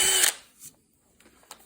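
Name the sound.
power drill drilling 1/8 inch pilot hole in wood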